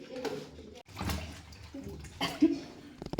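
Water sloshes and splashes in a basin as vegetables for avial are swished and rinsed nearby, with faint voices in the background.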